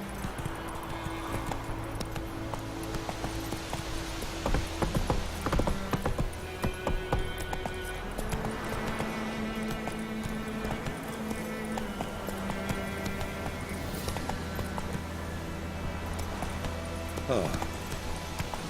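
In The Witcher 3, the horse Roach gallops with rapid, rhythmic hoofbeats that continue throughout, mixed with game sounds and occasional talking.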